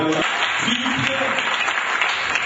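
A church congregation applauds and cheers for God, a continuous wash of clapping with crowd voices mixed through it, moderately loud and steady for the whole short stretch.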